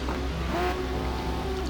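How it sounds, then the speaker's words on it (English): Race car engines in a sim racing game idle and rev on the starting grid at Fuji, a steady low drone with a brief rising rev, fairly quiet. "And you hear the revs coming on now, so these guys are getting ready to go"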